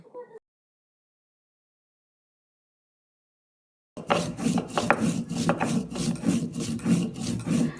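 Whole garlic, chilies and salt being ground on a grinding stone: rhythmic, close gritty rasping strokes that begin after a few seconds of silence and continue steadily.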